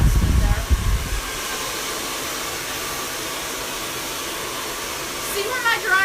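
A hair dryer blows steadily while hair is styled with a brush for root lift, a loud continuous rushing whoosh that stays close and constant, louder handling noise at the start, no talk over it.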